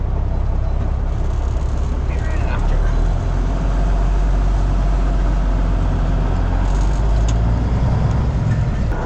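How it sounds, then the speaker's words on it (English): A truck drives off to collect a rental dump trailer, its engine a loud, steady, low rumble throughout, with voices faintly present under the noise. "me and Yanko are gonna go get the next trailer"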